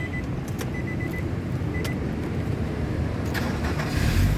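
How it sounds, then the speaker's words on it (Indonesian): A 2005 Nissan X-Trail T30 with a 2.5 engine and automatic gearbox is started, with faint clicks and a brief electric whir from the starter before a low engine rumble swells up near the end, heard close with no talk. "Sekarang kita coba nyalakan mobil ya."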